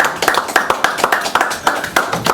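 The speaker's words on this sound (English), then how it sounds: "Let's give our guest presenter, Steve Johnson, who's going to be presenting you, me, and us a round of applause." A small group claps for a guest presenter, a few close, uneven hands striking in loose rhythmic bursts rather than a dense crowd roar.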